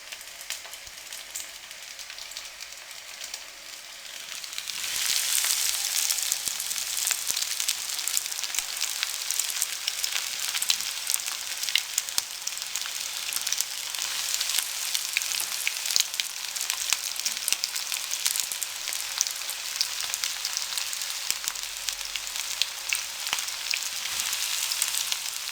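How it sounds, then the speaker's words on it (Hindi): Potato bread rolls fry in oil on a medium flame; after a quieter opening the sizzle swells at about five seconds into a loud, steady, close hiss with fine crackles that holds to the end. "मीडियम फ्लेम पे हम इनको फ्राई करेंगे।"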